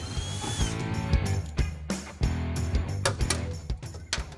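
Ratchet wrench clicking rapidly while unbolting a car steering column, close and loud, with bursts of sharp pawl clicks broken by brief pauses and a few metallic knocks.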